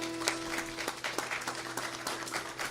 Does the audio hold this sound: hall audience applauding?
yes